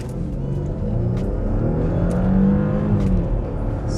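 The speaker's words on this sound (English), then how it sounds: "the Porsche Cayenne S engine and power" A Porsche Cayenne S engine accelerates hard from inside the heavy SUV, a steady rising drone and whir with a continuous rumble that builds in pitch across the run.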